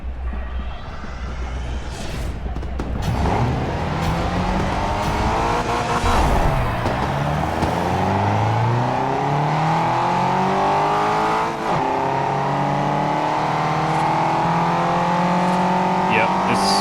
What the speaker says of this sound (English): Yep, this car is very loud.